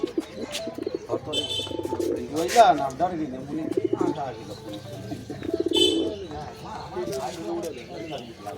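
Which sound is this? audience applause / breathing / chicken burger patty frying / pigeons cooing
pigeons cooing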